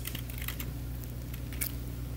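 Keys clatter quickly and continuously on a computer keyboard, light close clicks over a steady low electronic hum from a computer setup, with no talking.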